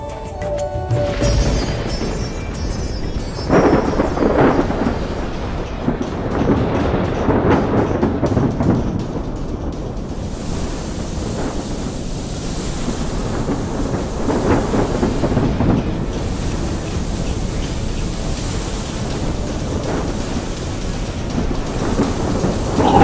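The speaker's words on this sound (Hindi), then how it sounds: "तभी बीच समुद्र में अचानक भयानक तूफान आ जाता है।" A violent storm at sea roars with thunder, rain and wind, loud and continuous, surging in waves throughout with no voices.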